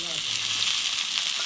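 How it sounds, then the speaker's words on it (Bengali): Chopped tomato sizzles in hot oil with browned onions as the base for a mutton curry with potatoes, a steady close hiss of frying throughout with no pauses. "তারপর টমেটোটা কিছুক্ষণ ভেজে নেবো যাতে টমেটোটি গলে যায়"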